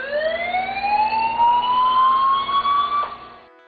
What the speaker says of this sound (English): Here is the chlorine emergency alarm.